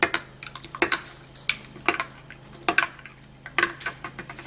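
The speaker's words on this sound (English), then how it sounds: "then we're gonna stir it, okay, so that the honey can be dissolved" A spoon stirs honey into a coconut water drink, clinking repeatedly against the glass in a quick irregular rhythm of sharp taps, close and fairly clear.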